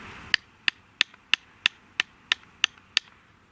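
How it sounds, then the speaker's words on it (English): A wooden wedge is battened in to secure a cordageless push-fit connection, giving nine sharp, evenly spaced wooden knocks about a third of a second apart, close and crisp, with no talk. "the last thing we need to do in order to make that hold is batten in that wedge"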